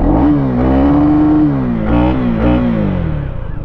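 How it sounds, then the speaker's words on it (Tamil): KTM Duke 250 motorcycle from 2024 revving its engine near the listener, a loud, steady exhaust note that climbs and dips with throttle blips, alone with no talk. "எக்ஸாஸ்ட் நோட் கேட்போம்."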